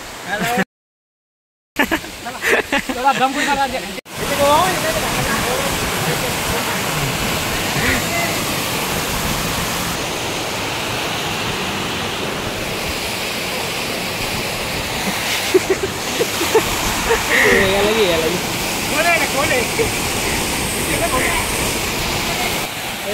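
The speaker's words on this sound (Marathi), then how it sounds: "गाइस धबधबा इथून काय भारी दिसतं बघा" Steady roar of rushing water from a waterfall in a valley fills the scene, with people talking and calling over it throughout.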